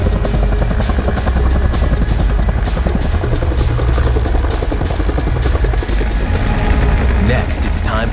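A military helicopter hovering during rappelling training with Philippine Scout Rangers, its loud, close, rapid rotor chop continuous throughout, with someone talking over it.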